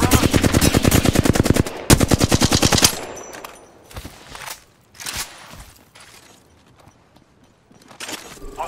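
Rapid automatic gunfire in Apex Legends erupts loud and close in two dense bursts, then gives way to scattered shots, impacts and footsteps at lower level.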